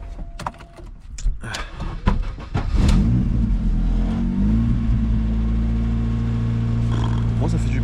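A Honda Civic engine cranks and catches after a few knocks and clatters, then settles into a loud, steady idle with a low rumble that holds to the end, while people talk over it.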